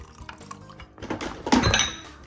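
Unripe plantain moi moi batter poured from a container rather than spooned, with clinks and thunks of kitchen dishes and pots around the thick pour, growing louder toward the end.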